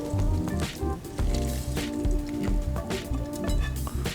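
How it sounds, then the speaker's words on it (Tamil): Hot tempering with curry leaves poured into coconut-milk idli batter gives a loud, wet squishing and dripping splatter that repeats in pulses over a steady background, close up with no talking. "இதை நம்ம இந்த தாளிப்பா அப்படியே நம்ம இந்த மாவில் கொட்ட போகிறோம்"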